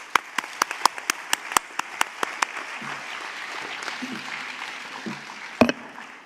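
A church audience gives a round of sparse, crisp claps that ring out near the start and then fade into quiet room murmur and low background noise.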